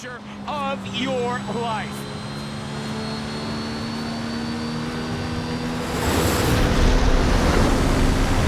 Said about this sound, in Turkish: Gördüğünüz gibi yine böyle festival havasında böyle uçaklar falan geçiyor